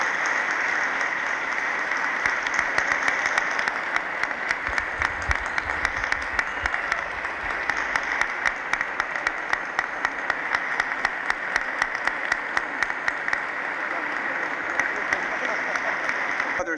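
Steady, sustained applause from a large audience at a Senate-House fundraising dinner, filling the room evenly at moderate volume with no voices over it.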